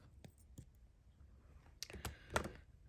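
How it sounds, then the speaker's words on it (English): A few light metallic clicks from jewelry pliers handling thin wire for flower earrings, ending in a sharper close snip. The sounds are brief and isolated over a quiet background. "and snip it off"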